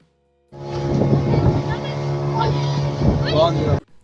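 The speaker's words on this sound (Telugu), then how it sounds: "సో అక్కడ బోట్ రైడింగ్ కూడా తీసుకున్నాము." A motorboat ride off a beach in Goa, with a steady engine drone and wind buffeting the microphone throughout, and a voice speaking over it.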